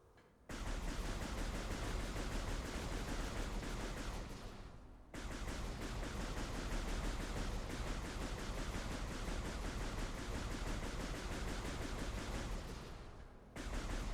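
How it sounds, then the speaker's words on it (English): Arm cannon firing in Metroid Prime Remastered, a dense continuous barrage of rapid energy shots that stays loud and unbroken for long stretches, cut by a couple of brief pauses. "If you just keep shooting it, oh, it doesn't overheat, but you can see the effects the heat is having on your arm cannon."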